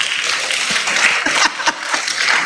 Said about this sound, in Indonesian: tepuk tangan sama.